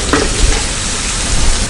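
Water comes to a boil in a pot for mushroom biryani, giving a steady close bubbling hiss with a few soft clinks, heard alone without talk.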